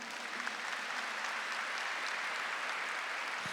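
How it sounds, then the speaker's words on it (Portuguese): A church congregation applauds the men present, with steady, continuous clapping from a crowd heard at a moderate distance throughout. "vamos aplaudir os homens que estão aqui"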